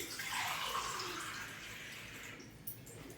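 Two cups of water pour into a cooking pot for meal maker biryani in a steady gush that gradually thins out, followed by a few small clinks near the end.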